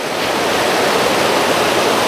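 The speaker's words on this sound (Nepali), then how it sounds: "अहिले उर्लेर आइरहेको छ सेउटी खोला" Flooded Seuti river in Dharan rushing in heavy rain, a loud unbroken broadband roar of churning water heard close and steady throughout, with no voices.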